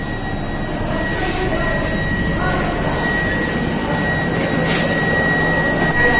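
The Sri Jagannath Express (18410, Puri–Shalimar) pulls out of Cuttack station, heard from on board as a steady, loud broadband rumble of the moving train that holds constant throughout without any talk.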